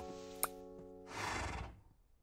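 A Minecraft horse lets out a short, clear whinny, preceded by a brief click and followed by a softer breathy snort, fairly quiet with no talk over it.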